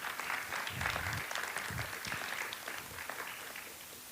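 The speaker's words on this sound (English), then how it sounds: "Big round of applause for the candidates up here." Applause from the audience at a school board candidates' forum, moderate clapping that is fairly quiet and distant, with a voice briefly heard over it.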